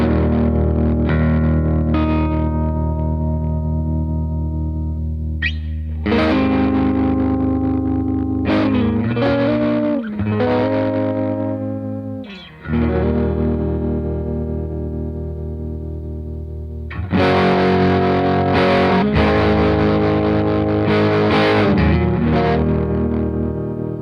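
Electric guitar runs through a Dumble and Klon style overdrive pedal into a Fender Hot Rod Deluxe amp, with crunchy distorted chords and riffs ringing out in phrases, broken by short pauses, then a denser, brighter strummed passage near the end.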